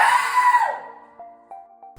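A man screams during hospital medical treatment, a loud, strained cry that falls away after about three quarters of a second, followed by faint tonal beeps from equipment.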